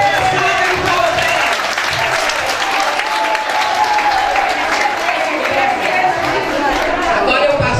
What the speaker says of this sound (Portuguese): Salve de palmas pra